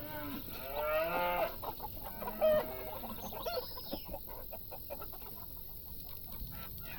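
Hens clucking in the Farm Manager 2018 farming game, a busy chorus of short clucks and squawks mixed with a cow mooing, continuous barnyard ambience at moderate volume.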